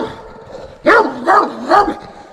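A dog barks three times in quick succession, loud and fairly close, with short gaps between each bark, heard during a mountain bike tour on Mallorca.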